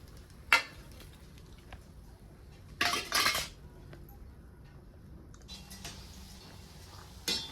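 Fried sweet wheat-flour bhaji are set onto a metal plate, sharp clinks and clatters of metal arriving in a few separate bursts against a quiet background.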